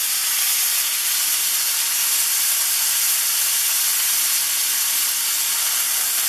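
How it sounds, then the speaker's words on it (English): A reverse-seared tomahawk cowboy ribeye steak searing on its edges in a hot pan. The sizzle is a loud, steady hiss that runs unbroken from start to finish, with no voices. "So, we could let it sear on the edges for a while."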